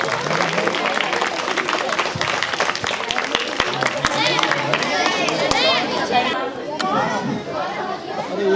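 A crowd of seated children applauds loudly at a Pandurna Range event in South Chhindwara, a dense, sustained wash of clapping mixed with lively chatter and voices that carries on for several seconds.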